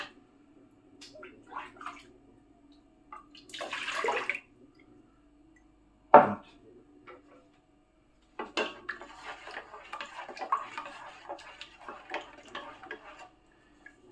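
A spoon scrapes and knocks inside a pot, gathering leftover sugar for a currant and redcurrant wine. Scattered clinks and a sharp knock come first, then a longer stretch of busy scraping, all close by with no talk.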